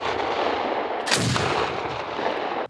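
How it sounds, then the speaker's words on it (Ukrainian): A single loud gunshot from cadets firing single rounds at a training range, a sharp blast with a rolling echo over steady outdoor noise. "Під час цього заняття курсанти мають відстріляти по 15 одиночних пострілів."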